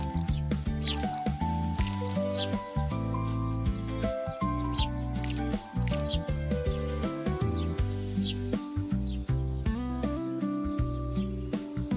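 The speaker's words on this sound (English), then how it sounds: "Slather on that sauce." Sauce spread over Neapolitan pizza dough outdoors makes soft, wet squishing and smearing strokes up close, repeated irregularly under continuous background music.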